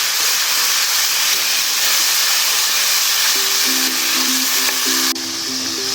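Tomato, green chili and ginger-garlic paste masala sizzles steadily in a pan, a loud constant frying hiss with a few faint tonal beeps near the end.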